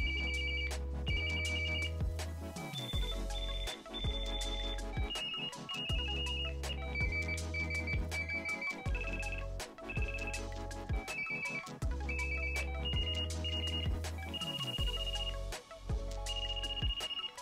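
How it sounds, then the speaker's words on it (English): A Motorola Profile 300e mobile phone plays its standard ringtone, a repeating electronic melody of short bright beeping notes in regular phrases, heard alone and clear with no talking. "We have 9 customizable ringtones in the Profile as well. So here's the first one,"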